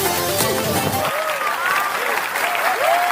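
Applause from a crowd on a film set after a dramatic final scene, broad clapping under music-like tones and tonal sweeps that glide across the clip, fairly loud and continuous.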